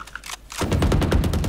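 Rapid automatic gunfire in Valorant, a dense rattling burst of close shots starting abruptly and continuing loudly to the end after a brief quieter moment.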